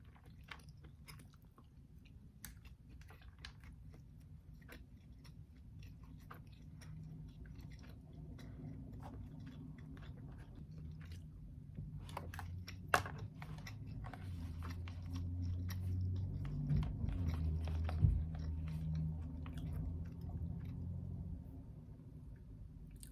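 Close, soft chewing and biting of tacos recorded intimately, with a continuous wet mastication rhythm, occasional crunches and a few louder clicks over a quiet low hum.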